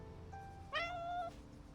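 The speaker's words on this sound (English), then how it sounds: "A stray cat guided by the smell of food approaches." A stray cat in the game Love and Deepspace lets out a single drawn-out meow, clear and close, over soft steady background music.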